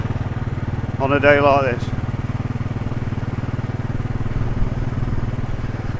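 A Royal Enfield Desert Storm motorcycle engine throbs steadily with a loud, even, low pulsing rhythm on a test ride, while someone talks briefly over it.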